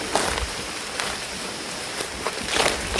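Rain falls steadily in a forest as a dense, even hiss with scattered louder drops striking leaves, close and continuous without speech.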